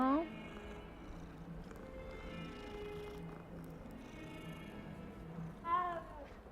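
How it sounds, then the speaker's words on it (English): A cat meows several times, with a clear rising call at the start and another near the end, close by, while a person talks softly over it in a quiet room. "Ooh, kitty cat."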